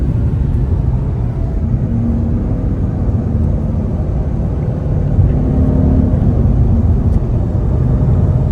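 A V8 muscle car engine, a Dodge Challenger Hemi 392 or a Mustang Boss 302, gives a loud, continuous, deep roar. It holds at a high, steady pitch throughout with no other sounds.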